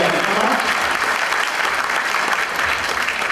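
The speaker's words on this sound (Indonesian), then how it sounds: "saya minta tolong tepuk tangan buat kita lagi semuanya" An audience at a corporate presentation claps together in a loud, continuous round of applause filling the short stretch, with a few voices faintly mixed in.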